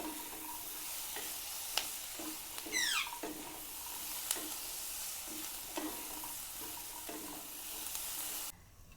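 Prawns and long beans fry in a pan for a Bengali mash, a soft, steady sizzle close by, broken by a few sharp scrapes and a brief squeaky stir partway through, with no voices.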